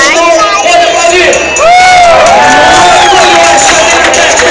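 An airshow crowd claps and cheers over a loud, steady roar, while a voice announces over a loudspeaker throughout.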